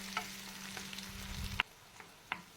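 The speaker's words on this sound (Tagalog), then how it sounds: "Haluin natin." Tomato and bell pepper being stirred for Turkish menemen in a frying pan, a soft sizzle with a few light utensil scrapes and taps against the pan, close and steady, no talking.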